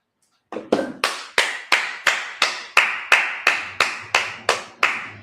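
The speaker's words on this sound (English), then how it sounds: "let's clap it up" A church congregation at a Sabbath service claps in unison, about thirteen sharp, evenly spaced claps roughly every 0.35 seconds, each with a short room echo.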